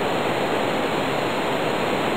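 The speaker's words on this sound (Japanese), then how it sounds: "トイレ、あ、水が増えてるよ。" Toilet water rushing in the horror game The House, a loud, steady, continuous gush of broadband water noise that fills the whole stretch without pause or speech.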